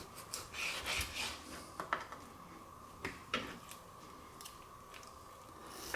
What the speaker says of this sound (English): I'm just giving this a very light trim because the grill will take care of some of this fat too